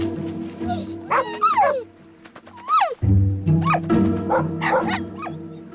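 A cartoon puppy whimpers and yips in several high, rising and falling cries, close and clear over a soft animated-film background with a low tone underneath.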